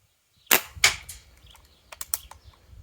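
CO2-powered airgun firing in the cold, a sharp muzzle report near 0.5 s and another at 0.8 s, then several weaker, thinner snaps around 2 s, each short and close with a brief tail.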